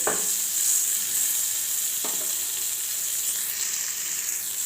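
Green chillies frying with salt in a pan, a steady close sizzle with a couple of soft stirring scrapes throughout.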